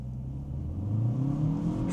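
A 2026 Mitsubishi ASX in sport mode accelerates up a corner, its engine note climbing steadily in a low, muffled in-cabin drone over two seconds.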